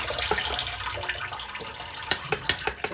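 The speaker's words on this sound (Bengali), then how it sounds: "এখন জলটা একটু ঝরিয়ে নিচ্ছি" Soaked, swollen rice being drained in a home kitchen, water splashing and trickling steadily at close range, with a few sharper drips and pours near the end.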